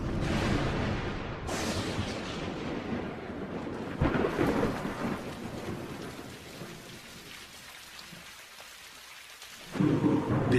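Heavy tropical rain pours steadily while deep thunder rolls and cracks nearby, the downpour easing slightly before another loud rumble near the end.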